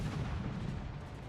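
Heavy naval gun salvos from the Harugumo destroyer in the World of Warships video game, a dense rumbling roar of cannon fire filling the short stretch, loud and steady with no talk.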